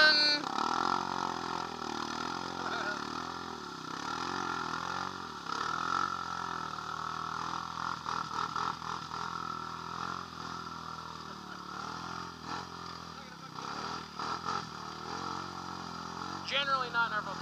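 A Honda Rancher 420 ATV fitted with an HMF exhaust, tearing through clay, gives a steady, droning engine note whose revs rise and fall throughout at moderate distance.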